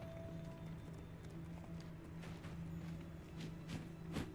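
Hooves of a half-horse centaur clip-clop steadily in the game Hogwarts Legacy, a quick rhythmic trot with a low background hum and a few sharper knocks near the end.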